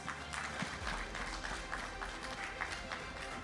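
Applause from the audience at the GFA awards ceremony, a steady patter of many hands clapping at moderate distance for the helpers, with faint crowd murmur underneath.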